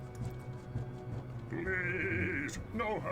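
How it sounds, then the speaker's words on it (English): Goatman enemy Garbad the Weak in the Diablo video game letting out a bleating, goat-like bray over background game ambience and footsteps, one drawn-out cry followed by a shorter one. "Ooh, that's a unique goat over there."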